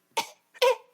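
A person imitates Professor X's cough with two short, raspy coughs spaced about half a second apart, close and loud against silence.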